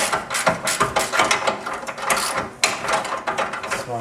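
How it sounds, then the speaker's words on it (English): Ratchet wrench tightening nuts on the rear subframe of a 1995 Mitsubishi Eclipse, a steady run of close, loud metallic clicks and clattering with no talking. "I gotta just tighten everything up."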